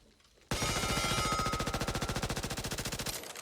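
An MP5 submachine gun fires a long, rapid automatic burst in Back 4 Blood. The shots are loud and evenly spaced, start abruptly after a brief quiet moment and run for about three seconds.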